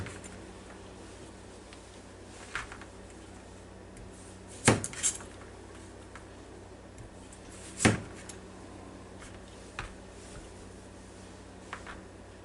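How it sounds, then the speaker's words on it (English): A kitchen knife trims the ends off squash and zucchini on a cutting board, giving two distinct, sharp chops several seconds apart and a few fainter knocks against a quiet room background. "the next thing we're going to do is just cut the ends off the squash and zucchini here."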